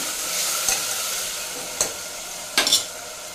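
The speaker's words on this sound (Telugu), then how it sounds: "ఇప్పుడు మిక్స్ చేస్తున్నాం" Red amaranth leaves frying in a pan as chopped tomatoes are stirred in, a steady soft sizzle broken by a few sharp spoon scrapes and clinks, close and alone with no talk.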